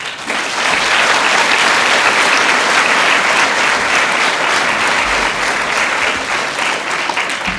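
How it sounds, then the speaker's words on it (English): A school graduation audience applauds a staff member, loud dense clapping that swells in quickly and holds steady for several seconds, unbroken by talk. "he really needs a round of applause too"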